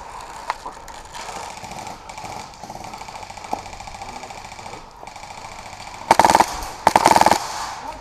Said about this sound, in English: I'm shooting over you.